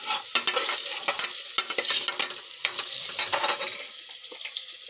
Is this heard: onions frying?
yes